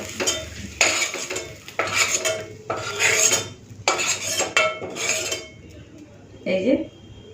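A metal spatula scrapes and clanks against a pan in several bursts while fried potato and pointed gourd are lifted out of it. One faint word is spoken near the end.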